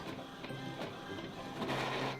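A printer feeds a sheet of lavash flatbread and prints yellow onto it, giving a steady mechanical whirr with rhythmic carriage shuttling and clicks, loud and close.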